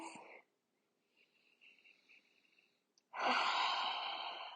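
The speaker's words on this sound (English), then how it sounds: "And just take a few deep breaths." A person taking slow deep breaths while holding an IT band stretch on the floor, a soft breath at the start, a quiet pause, then a longer, louder exhale rushing close to the microphone.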